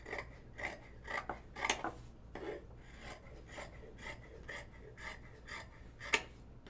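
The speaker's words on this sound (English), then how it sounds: "I don't cut with fabric scissors very often" Fabric scissors cutting out a sewing pattern: a series of crisp snipping and rasping cuts in an irregular rhythm, close and fairly quiet, with short pauses between strokes.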